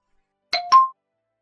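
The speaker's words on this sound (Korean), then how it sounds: "여보, 카톡 온 거 같은데?" A two-tone KakaoTalk message notification chime sounds clearly alone, a bright ding followed by a second sustained tone, close and crisp in a quiet room.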